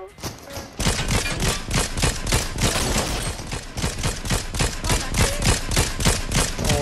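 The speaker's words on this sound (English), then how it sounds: "Some gunshot behind us." Rapid, sustained gunfire crackles in the video game Fortnite during a trios match around a castle, a dense loud volley of shots that starts abruptly and keeps going with barely a pause.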